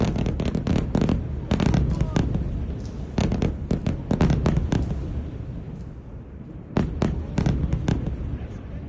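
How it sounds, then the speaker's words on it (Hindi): Bombing in southern Beirut at night: dense bursts of sharp cracking explosions and rapid bangs, continuous and loud, with brief pauses between volleys. "धमाकों की आवाज से दहला है पूरा इलाका"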